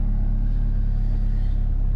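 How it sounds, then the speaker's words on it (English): A turbocharged B20B engine in a Honda Civic EG hatch idles on its own while warming up, a steady low pulsing rumble close by and unchanging throughout, with no voices. "Car's been idling on its own."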